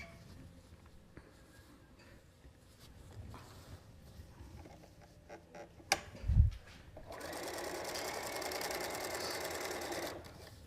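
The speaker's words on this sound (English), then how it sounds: "here's another strip to sew on" A sewing machine stitches quilt strips, first quiet handling and a short knock, then a sustained, fairly close mechanical whir of the needle running for the last few seconds.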